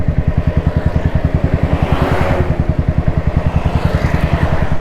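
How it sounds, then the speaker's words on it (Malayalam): A Royal Enfield Standard 350 with an open-flow silencer idles close by, its exhaust thumping in a steady, even, loud beat throughout, with no talk. "നമ്മൾ എക്സോസ്റ്റ് നോട്ടും കേൾക്കുന്നുണ്ടാവുമെന്ന് വിചാരിക്കുന്നു."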